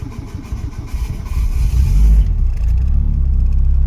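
A Citroen Saxo engine cranks and catches, its rough rumble rising to a steady, loud idle heard close by inside the car, with no talking.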